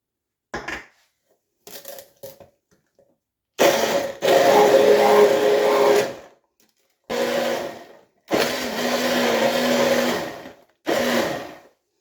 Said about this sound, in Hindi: तीनों फ्रूट जो है ब्लेंड कर लिए हैं।